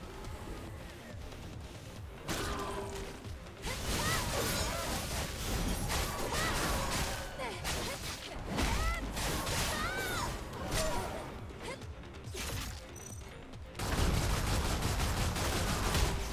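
In the video game Stellar Blade, hits on a crab enemy land as loud explosion-like blasts and crunching impacts, with sweeping whooshes, in dense rapid bursts across a busy battle mix.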